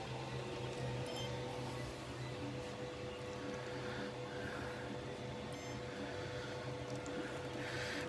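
A Tronxy X5SA 3D printer homes with a steady mechanical hum and faint whirring of its motors, quiet and continuous, with a few soft higher tones rising briefly.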